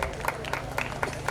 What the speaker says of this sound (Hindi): तालियों की गुजारिश है सामईन हज़रात से